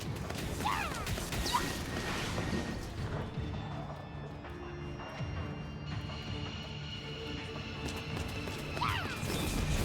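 Breakable objects being smashed in Children of Morta on hard mode, heard as several sharp crashes and thwacks over a busy layer of game effects and music. No one talks.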